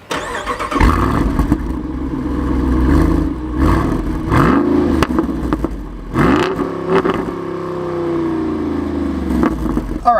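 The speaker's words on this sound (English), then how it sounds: "push the brake and push the engine start stop button and the vehicle will turn on" A 2024 Jeep Wrangler Rubicon 392 V8 fitted with a performance exhaust starts up with a loud burst. Several sharp revs rise and fall, with a deep idle rumbling between them, close and strong.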